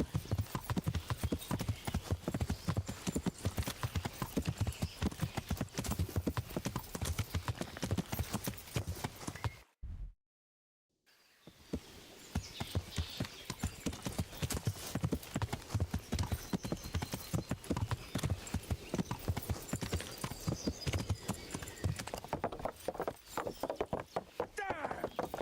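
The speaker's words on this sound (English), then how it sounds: "Stay away from people if you can't ride a horse." Horse hooves clip-clop in a steady rhythm as a rider travels in the medieval video game Kingdom Come: Deliverance, continuous and close with a brief silent gap midway, while people talk over it.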